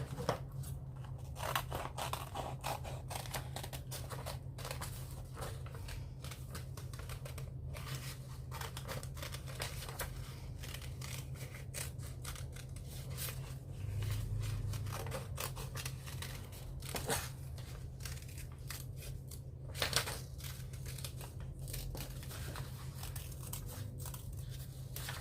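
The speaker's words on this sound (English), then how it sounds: "then you're just going to cut around the outer edges and you'll have a shamrock" Scissors snip around the outer edges of a paper shamrock template for a St. Patrick's Day hat, giving soft, close, intermittent cutting and crinkling over a steady low hum, with no voices.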